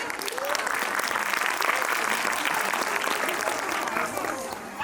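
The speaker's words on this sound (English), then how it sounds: "A big round of applause" An annual school function audience gives a big round of applause after a staff and principal performance; continuous dense clapping from a large crowd, loud and even with no break.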